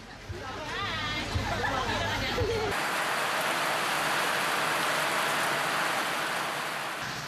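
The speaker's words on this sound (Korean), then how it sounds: "열대성 기후에서 흔히 나타나는 스콜이다" A heavy tropical squall pours down on a Papua New Guinea island, a dense, loud rain roar that sweeps in after a few seconds of background voices and chatter, then holds steady.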